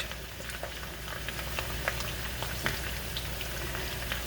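Potatoes and onions frying in a pan for Southern fried potatoes, a soft, steady sizzle with scattered small pops and crackles, quiet and close with no talking.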